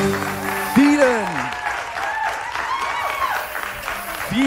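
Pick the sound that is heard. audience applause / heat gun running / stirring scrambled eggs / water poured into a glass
audience applause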